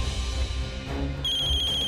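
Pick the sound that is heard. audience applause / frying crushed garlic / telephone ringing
telephone ringing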